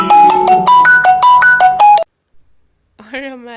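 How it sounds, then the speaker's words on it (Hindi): A phone ringtone goes off during a birthday cake cutting, a loud rhythmic melodic tone repeating for about two seconds before it cuts off, followed by a brief voice. "फ़ोन आने लगे विश करने के लिए"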